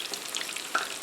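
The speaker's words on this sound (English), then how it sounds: "We're going to drop some shrimp in here." Breaded shrimp bubbling in deep frying oil, a dense close sizzle with quick crackles and one louder pop partway through, alone without speech.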